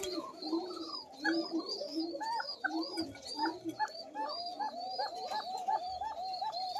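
Koka pigeons coo repeatedly in soft, rolling bursts, a thin-voiced hen and a cock together, with chirps and other birds in the background throughout.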